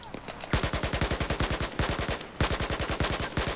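Rapid automatic weapon fire in Battlefield 4, loud and close, in three sustained bursts of evenly spaced sharp shots separated by brief pauses, with a quieter stretch at the start.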